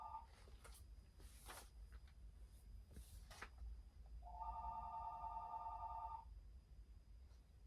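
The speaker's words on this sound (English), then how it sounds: "I'm not answering the phone, so." A telephone rings in a distant room, one short electronic trill burst of about two seconds in a quiet space with faint background noise.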